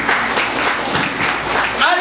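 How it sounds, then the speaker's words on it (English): A church congregation gives a clap of praise to God, a dense, steady wash of applause filling the room, with voices mixed in. "Let's give God a clap of praise."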